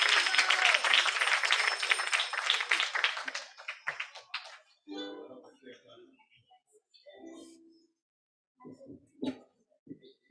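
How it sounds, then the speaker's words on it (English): An audience at a festival program at a Gurukul in Watford gives a round of applause, loud dense clapping for about four seconds that thins out and fades, followed by scattered talking. "Give a round of applause"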